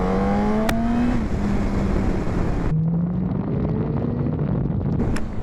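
A Yamaha R1 motorcycle with 175 hp accelerating hard, its engine note climbing in pitch through a gear change and rising again, loud with heavy wind rush over the microphone.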